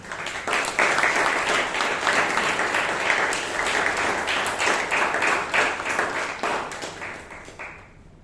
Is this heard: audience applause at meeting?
yes